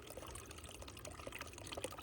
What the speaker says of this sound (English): Push it down. Don't over squeeze it, but just enough where it's got a nice stream.